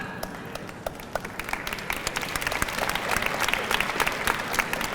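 An audience at an alumni assembly claps in steady, dense applause that swells slightly, with a faint crowd murmur underneath.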